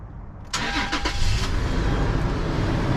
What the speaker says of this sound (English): turn on the ignition